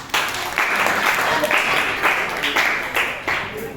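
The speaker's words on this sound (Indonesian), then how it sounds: "Oke, tepuk tangan." Students clap in a classroom during a teacher-training practice lesson, a loud round of applause with uneven bursts and rhythmic pulses lasting nearly four seconds, with voices mixed in.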